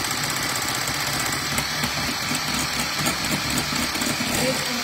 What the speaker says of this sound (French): on prend le sirop, on le verse sur le blanc d'œuf, on y va à grande vitesse